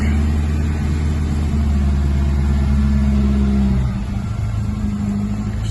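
A classic Sunbeam Rapier Fastback runs steadily, its mid-pitched engine drone loud and continuous before easing slightly near the end, with no voices over it.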